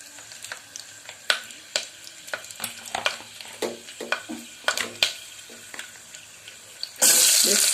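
Chopped onions go into hot oil already crackling with cinnamon, cardamom, cloves and bay leaf for restaurant-style tomato rice, giving a steady close sizzle broken by sharp spoon-and-pan clinks, then a sudden loud hiss of running water at the end.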